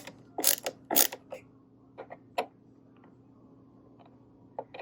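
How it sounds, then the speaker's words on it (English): Screws being tightened into the legs of a TCL Roku 43-inch 4K TV stand give several sharp clicks and ratcheting ticks, close and irregular, in a quiet room. "Now make sure both of these are in place before you start tightening them."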